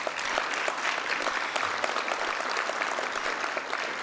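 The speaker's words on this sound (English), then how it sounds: "Please give them applause." Audience applause fills a hall at a Meharry Circle of Friends supporters' event, a steady dense wash of many hands clapping with no break, moderately loud and continuous throughout.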